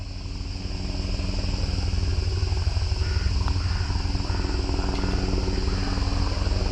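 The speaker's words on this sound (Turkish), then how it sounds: "Bak helikopter geldi." A steady, droning helicopter rotor hums continuously at moderate distance, a constant low throb with no speech over it.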